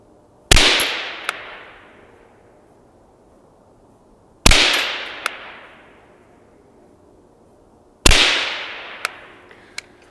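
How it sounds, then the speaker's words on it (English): Three loud, sharp rifle shots from a rifle fitted with an Armasight OPMOD thermal sight and a Geissele trigger, evenly spaced about four seconds apart, each with a short decaying echo and small clicks afterward. "let's fire a couple rounds, see where we end up here."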